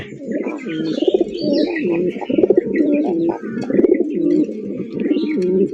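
A pair of sapchila pigeons, kept with their eggs, coos loudly and close in repeated rolling phrases, with faint chirps in the background.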